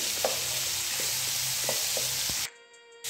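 Mixed vegetables and cabbage fry in a pan with a constant bright sizzle, broken by a few soft stirring scrapes, and the sizzle drops away abruptly near the end.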